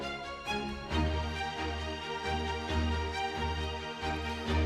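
Layered orchestral strings, short strings with string sustains and passion strings, play a pop arrangement with rhythmic repeated bass notes and sustained chords, full and steady throughout.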